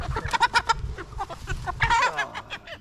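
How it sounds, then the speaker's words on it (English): Several chickens cluck and squawk in quick bursts, fairly close, with a busy low rumble of movement beneath them. "You silly chickens. Silly chickens."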